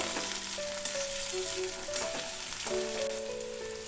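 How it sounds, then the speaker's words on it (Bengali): Two chopped onions frying in hot oil tempered with whole cumin, a steady close sizzle with occasional stirring clinks, while faint sustained musical tones play in the background. "এর মধ্যে আমি 2টো কেটে রাখা পেঁয়াজ দিয়ে দেব। ভালোভাবে একটু ভেজে নেব।"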